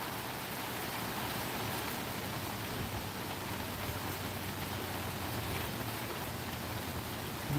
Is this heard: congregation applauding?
no